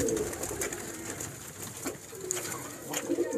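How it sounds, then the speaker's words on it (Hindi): Pigeons coo softly in low, repeated throaty calls close by, over a steady background murmur. "छोटा बेबी पिजन है क्योंकि अभी ये दाना उठा रहा है"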